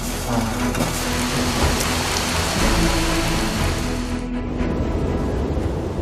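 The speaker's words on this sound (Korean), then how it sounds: "비가 너무 많이 와서 피해가 많다는 거 보니까" Heavy rain pours in the mountains, a steady, dense wash of drops that stays loud and unbroken throughout, with no voices.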